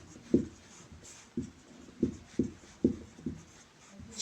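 Chalk tapping and scratching on a classroom board while a point is written, a handful of short distinct strokes spaced about half a second apart, fairly faint and without speech.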